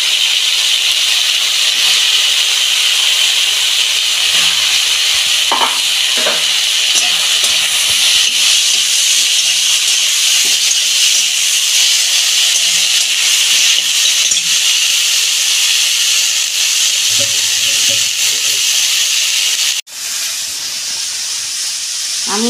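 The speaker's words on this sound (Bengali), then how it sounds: "ওই তেলে আমি উচ্ছেগুলো ভেজে নেব।" Sliced bitter gourd frying in hot oil in a Bengali kitchen, a loud, steady sizzling hiss throughout with a few faint clinks and one sudden knock near the end.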